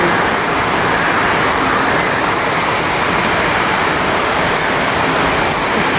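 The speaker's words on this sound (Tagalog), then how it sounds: "Lakas ang ulan ng bagyong Christine." Heavy typhoon rain from Typhoon Kristine in Bicol, a dense, unbroken roar of downpour pounding surfaces close by, steady and loud throughout with no voices.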